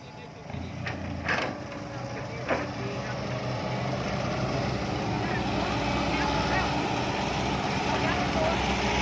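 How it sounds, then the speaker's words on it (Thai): Car tyre burnout with the engine revving hard through a loud exhaust, a sustained rough roar holding steady for several seconds, with a few sharper bursts early on. "เบิร์นยางก่อนว่ะโอ้"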